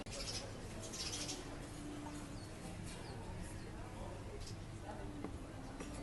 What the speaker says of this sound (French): Je peux vous filmer les oiseaux.